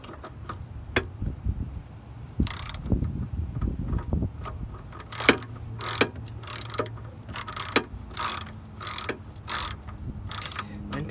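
A ratchet tightens the lower control arm bolts on a BMW E46, with bursts of rapid clicking and sharp metallic ticks, close and fairly loud, in irregular runs.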